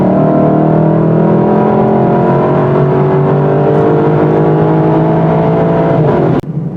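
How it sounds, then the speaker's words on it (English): A 2023 Lexus LC 500 V8 performance car accelerating hard on a country road, a loud, steady engine roar with rising harmonics through the gears, close and continuous, ending in a sharp transient near the end. "This is a performance car, so let's take it out in the country and open her up."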